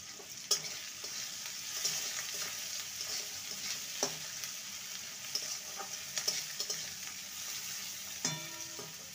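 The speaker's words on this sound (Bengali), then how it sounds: "পেঁয়াজটাকে হালকা লাল করে ভেজে নেব। আর দিয়ে দেবো 2টো চেরা কাঁচা লঙ্কা।" Chopped onions and two slit green chillies fry in a pan for a kidney bean mash, giving a steady close sizzle with a few sharp clinks and scrapes of stirring, no voices.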